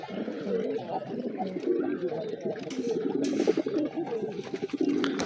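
Domestic pigeons cooing during morning feeding, a dense, continuous chorus of low burbling coos from many birds close by, steady throughout with some clattering movement.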